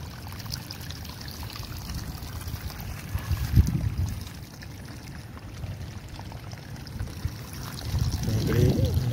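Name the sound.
water flowing out through a breach in a rice field bund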